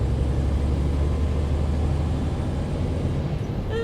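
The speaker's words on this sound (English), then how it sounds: "It's very quiet. That I will give International. They have a quiet truck." An International truck engine runs steadily while bobtailing with no trailer attached, a continuous low rumble heard from inside the cab, fairly quiet and even throughout.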